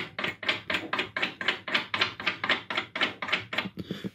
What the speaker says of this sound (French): je viens ici desserrer l'écrou, le contre-écrou